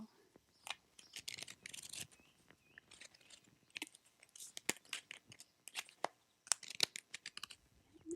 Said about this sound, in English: Shuffle till it feels right.